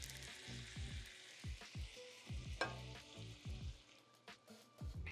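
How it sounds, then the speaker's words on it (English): A utensil stirs roasted diced tomatoes and marinara sauce in a pan for a baked ziti, making repeated soft scraping sweeps over a low simmering sizzle. The sound is fairly faint and close, with no voices. "let's just give that a good mix up"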